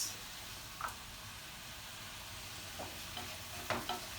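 Onion sautés in a pan for stuffed peppers and squash with a soft, steady sizzle. A few faint scrapes of stirring sound up close, and no one speaks.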